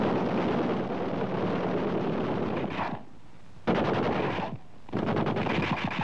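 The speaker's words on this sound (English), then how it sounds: "The UH-1A's two fixed-mount 30-caliber machine guns are mounted forward on the skids, one on each side" Two fixed-mount 30-caliber machine guns on the skids of a UH-1A Huey helicopter firing in sustained loud bursts with a brief pause, dense rattling roar close and continuous.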